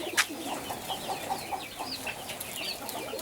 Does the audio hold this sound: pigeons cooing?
yes